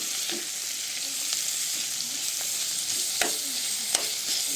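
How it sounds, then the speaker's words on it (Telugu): Tomato pieces fry in a pan with a steady sizzle, while a spoon stirs them in occasional scraping clicks and knocks. "ఇప్పుడు టమాటా ముక్కలు వేసుకోవాలండి"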